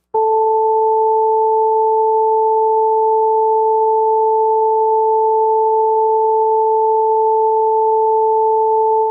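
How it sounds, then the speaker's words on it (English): Two pure sine tones at 440 Hz and 880 Hz sounding together, a steady, loud, unwavering electronic pitch held for about nine seconds with no other sound. "here's my 440 hertz sine wave, and here's my 880 hertz sine wave."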